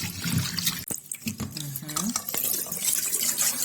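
Afang soup leaves being washed by hand in a bowl of water, with splashing, sloshing and dripping, a few sharp knocks against the container, close and fairly loud with no talking.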